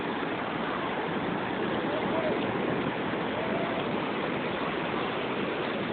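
Steady, loud wash of sea waves at Antharvedi beach, where the Godavari meets the sea, a continuous roar of surf with no distinct breaks and no voices.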